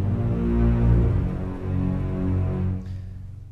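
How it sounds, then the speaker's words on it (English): Low strings from the Metropolis Ark 2 orchestral library sustain a deep, rich chord that swells, dips briefly around the middle, then fades, with faint room ambience audible. "I used Metropolis Arc 2 for the low strings, which sounds like this"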